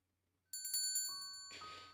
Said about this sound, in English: The doorbell rings as I enter the cafe.